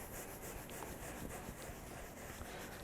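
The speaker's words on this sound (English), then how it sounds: "I'm gonna start agitating the surface with my brush here" A brush scrubs foam cleaner into the textured interior surface of a convertible BMW, producing a steady close-up rubbing and scratching sound with no pauses and no talk.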